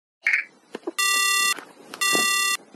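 An electronic telephone rings in an anime-style game scene with two loud, steady beeping tones, each about half a second long and separated by a short gap. A few brief, soft sounds come just before the first ring.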